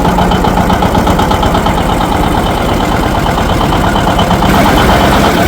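A John Deere 730 tractor engine runs loud and close at full throttle in high gear climbing a steep little hill, a dense pulsing throb with a rapid regular beat that holds steady throughout.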